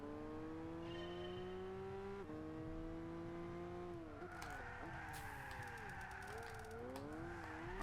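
A car drifts with the handbrake in Gran Turismo 6, its engine note holding steady then dropping and wavering as the tyres squeal and skid through the slide, loud and alone.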